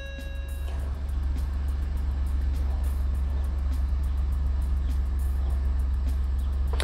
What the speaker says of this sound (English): I just want to see when I start the car